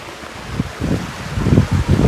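A small stream runs down the rocks at Pogilla Waterfalls, giving a steady rushing wash with low rumbling surges, partly mixed with wind buffeting the microphone.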